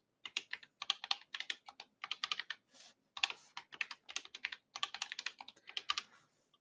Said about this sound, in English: 2 times typing the right password